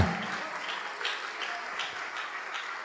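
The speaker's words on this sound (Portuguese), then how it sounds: "Vamos aplaudir muito, igreja." A church congregation applauds during a sermon, soft and somewhat distant clapping forming a steady wash over a few seconds.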